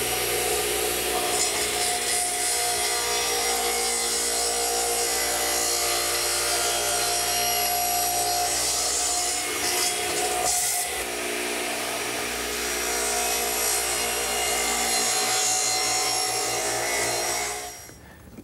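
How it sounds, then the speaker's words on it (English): A radial arm saw with its motor and blade tilted to 45 degrees cuts mitered ends on four-foot wooden pieces, a loud, steady motor whine and grind that holds for most of the time before spinning down. "tilted the motor and blade unit to a 45-degree angle, and I need to cut all my pieces 4 feet mitered on each end"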